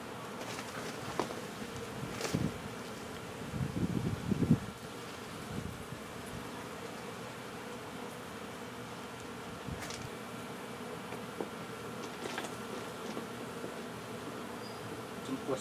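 Honeybees buzz faintly and continuously while a hive is removed from a storm shutter, a soft droning swarm with occasional louder passes near the microphone.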